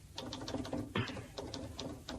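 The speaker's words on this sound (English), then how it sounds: "What are you typing?" Typewriter keys struck in a quick irregular rhythm in an office, sharp clacks with a louder carriage-like thump midway, fairly quiet and without speech.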